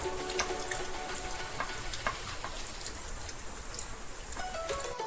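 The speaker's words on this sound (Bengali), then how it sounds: "বাইরে বৃষ্টি হচ্ছে" Steady rain falls outside, a continuous even patter with scattered sharper drops throughout and no one talking.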